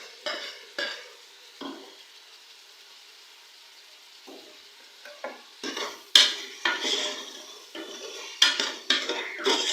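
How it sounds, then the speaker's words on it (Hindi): A spoon scrapes and clinks against a pot as tomatoes are stirred into frying beef bhuna masala, with scattered strokes at first, then busier, louder scraping over a soft sizzle. "टमाटरों को अच्छे से मिक्स करेंगे हम लोग"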